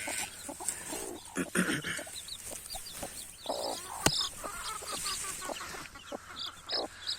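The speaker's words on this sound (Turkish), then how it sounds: "Bakın burada bir sürü civcivlerimiz var." Chickens cluck and chicks peep steadily inside a coop on a farm, with scattered high chirps and soft clucking spread through the scene at moderate distance, and no talking.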